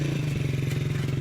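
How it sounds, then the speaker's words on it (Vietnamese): A motorcycle rumbles in the mountains of Iran, its engine a steady, loud, throbbing drone with a pulsing low note and faint clattering on top. "Một chiếc xe máy đang chạy tới."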